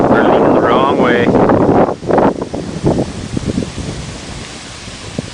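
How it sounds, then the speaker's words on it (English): Strong headwind of roughly 20 to 25 mph buffets the microphone on a coast-to-coast bike ride through Minnesota, a loud broadband roar that drops briefly and then continues as gusty rumbling. "this wind is blowing maybe 20, 25"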